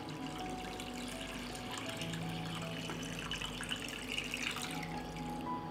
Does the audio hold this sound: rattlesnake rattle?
no